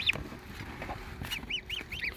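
Mammoth breed goslings, a cross of Toulouse grey and Emden white geese, call in a rapid series of thin, high piping peeps, several close together and clustered toward the end, over quiet background.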